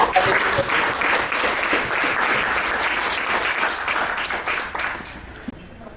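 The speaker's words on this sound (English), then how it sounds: "let's give a round of applause to the panelists one more time" A crowd at a merchants' meetup applauds the panelists with dense, steady clapping that carries on for several seconds before tapering off near the end.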